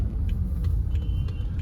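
Idling diesel engine of a BMW 520d, shifted into drive with auto hold engaged, giving a steady low rumble heard from inside the cabin, with light ticking over the top.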